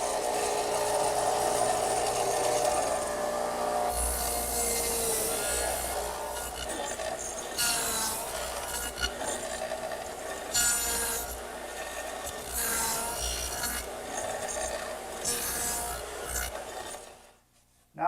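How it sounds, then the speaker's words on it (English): A radial arm saw fitted with a dado blade cutting wooden half-lap joints against a stop block, heard as a steady motor hum with repeated rasping, grinding cutting passes, ending in a sudden stop. "I've installed the dado in the radial arm saw and set it up with a stop block"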